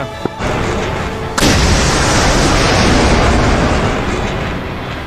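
A missile fires from an aircraft in DCS World: a sharp pop, then a sudden loud, sustained roaring rush that holds steady for several seconds before slowly easing.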